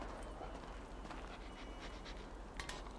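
A dog in the video game Grand Theft Auto V pants and scuffles amid a dense, constant wash of game noise, with a few sharper bursts near the end.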